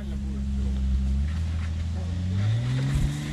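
A GAZ off-road vehicle's engine pulling away in a forest, a steady low rumble that rises in pitch as it revs, with someone talking over it.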